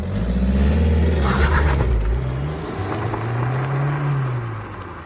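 A Seat Leon FR engine revs up loudly, the pitch rising and falling in a couple of swells, then settling into a steady idle.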